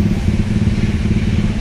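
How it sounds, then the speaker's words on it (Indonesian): Motorcycles and other traffic idle and rumble at a busy port toll gate at Bakauheni, giving a loud, continuous low engine drone with no break. "lihat penumpang pribadi ya, dan motor mulai ramai, padat di kendaraan tol gate"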